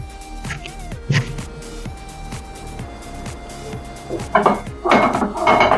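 A frying pan is set down on a gas stove with a few close metallic clanks and knocks, followed by some lighter kitchen clatter.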